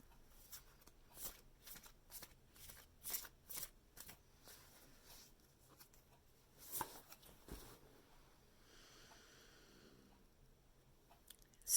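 Oracle cards being shuffled by hand in a quiet room: a run of soft, papery riffles and slaps in quick bursts, close and fairly faint, followed by a lighter rustle and one louder tap at the end.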